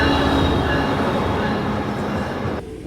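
Brightline passenger train heading to Miami, heard from on board as a loud steady rumble and rattle of wheels on rails with a faint high squeal, which drops away suddenly near the end.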